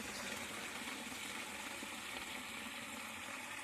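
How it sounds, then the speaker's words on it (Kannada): Water flows through a farm irrigation channel, producing a faint, steady gushing wash with no pauses and no voices. "ನೀರಿನ ಸೌಂಡ್ ಕೇಳ್ತಾ ಇರ್ಬೋದು."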